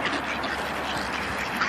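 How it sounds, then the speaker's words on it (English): A flock of about thirty ducks squabbling over food at a park, a steady dense wash of overlapping quacks and noise with no clear gaps. "Look at all the ducks. So many ducks."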